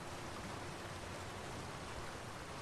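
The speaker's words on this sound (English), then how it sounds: "Oh, I found the waterfall." Steady rushing wash of a waterfall in The Elder Scrolls Online, a broadband hiss that holds level and close for the whole stretch with no other sounds over it.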